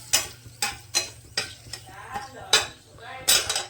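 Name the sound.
bay leaves and dried chillies sizzling in mustard oil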